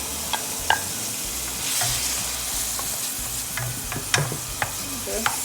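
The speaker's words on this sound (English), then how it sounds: "Just stir this a little bit." A spoon stirs tomatoes and rosemary in a cooking pot for Jamaican tun cornmeal, with scattered scrapes and light clinks over a steady low sizzle, close and fairly quiet.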